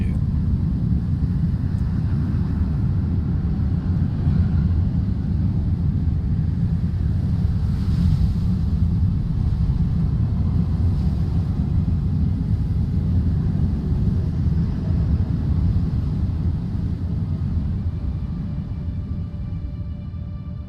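A storm in the video game Dune Awakening: a continuous low, rumbling wind roar, loud and broad, holding steady before easing slightly toward the end, with no voices over it.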